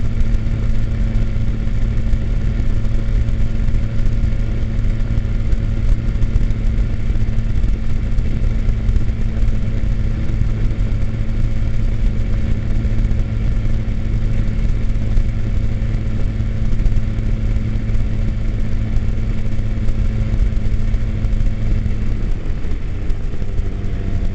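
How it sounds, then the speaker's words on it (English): A motorcycle cruises at highway speed on a public road toward the outskirts of Wrens, giving a steady, loud engine drone with constant wind rush that holds for the whole stretch, with no talking. "the bike can easily do highway speeds"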